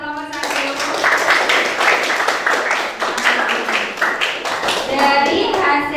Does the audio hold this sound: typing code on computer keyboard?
no